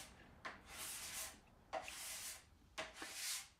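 Plastic scraper dragged across the waxed tail of a snowboard base, three separate long rasping strokes with short pauses between them, close and fairly quiet, no talking.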